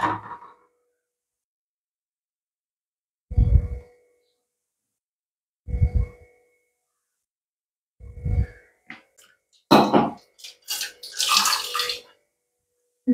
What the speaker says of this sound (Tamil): தண்ணி கொஞ்சோண்டு ஊற்றி பிசைஞ்சிக்கலாம்.